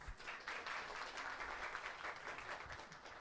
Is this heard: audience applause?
yes